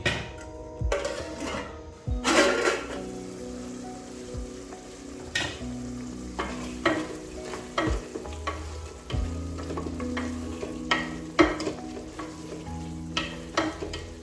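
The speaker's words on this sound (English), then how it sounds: "Then I'm going to let this simmer for about 3 to 5 minutes" A pot of beef stew cooks with an active bubbling sizzle, broken by repeated knocks and scrapes from a spoon stirring against the pot, close and moderately loud with no talk.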